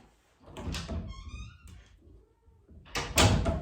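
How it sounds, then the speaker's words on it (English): A cat meows once with a drawn-out, wavering cry, framed by thumps and rustling handling noises nearby. "you've come and greeted my viewers with your meows"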